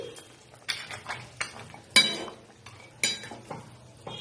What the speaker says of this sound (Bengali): এই যে দিয়ে এবার একটা ঢাকা দিয়ে ঢেকে দিচ্ছি।